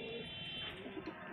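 A desi Punjabi flying pigeon coos softly in short, low, throaty calls, faint and close, with quiet background hiss.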